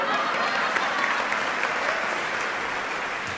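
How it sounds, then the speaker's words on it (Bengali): Dense, steady applause from a large audience at the Meril Prothom Alo Award 2016 ceremony, sustained and even in loudness throughout with no pauses. "আমাদের জন্য জোরে করো তালি।"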